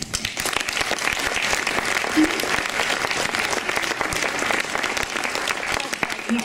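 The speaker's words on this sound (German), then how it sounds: "Nochmal einen großen Applaus" Sustained audience applause at a German organic-shop award ceremony, dense even clapping from a crowd lasting throughout, with a brief voice over it.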